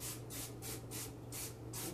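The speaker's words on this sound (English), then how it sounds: "I want to spray just a little bit of nonstick olive oil" Nonstick olive oil spray misted into a cooking pan, heard as about six short, close hissing bursts in a steady rhythm.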